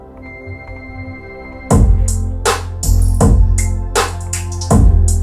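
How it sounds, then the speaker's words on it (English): Rap beat made in FL Studio plays loud and close, with a slow, sparse melody and punchy deep bass hits and sharp percussion starting partway in after a quiet opening of soft sustained tones. "The beat sounds like this."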